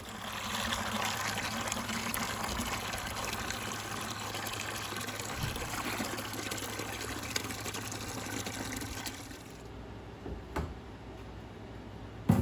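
Water runs steadily into buckets for a boat live well test, a constant close rushing and splashing that thins out near the end as the flow changes.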